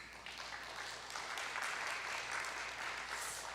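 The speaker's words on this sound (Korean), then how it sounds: "박수" Applause from an audience at an international missions leaders' forum session, steady moderate clapping heard at some distance, continuing for a few seconds.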